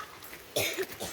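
A single short cough breaks through quiet background, close and sharp, followed by a fainter catch of breath.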